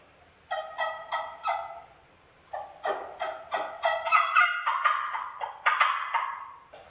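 A turkey call gobbles in a series of clear, bright rattling bursts, a few spaced apart at first and then quicker and overlapping, close and fairly loud with no talking.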